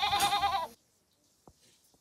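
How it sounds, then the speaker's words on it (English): A single goat bleats once, a short wavering cry up close, then quiet with a couple of faint clicks. "goat"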